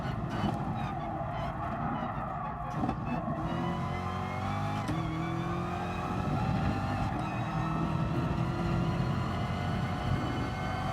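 Race car engine roaring in the GT Sport racing game, loud and steady along a fast straight, pitch climbing through gear shifts with a continuous droning tone and no talk.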